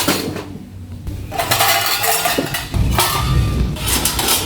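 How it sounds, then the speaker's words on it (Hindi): Dishes and utensils clatter and clink as they are set out in a home kitchen, a busy run of close, uneven knocks and chinks with no talk over them. "पूरा यहाँ से बर्तन लेके मैंने यहाँ पर सजा दिया।"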